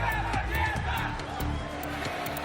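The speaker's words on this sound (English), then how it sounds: "The roar of the crowd and the tension play their part." A dense crowd roars and murmurs continuously at a Wargaming.net League World of Tanks esports event in Kiev, a steady wash of voices with scattered shouts, filling the whole space without a break.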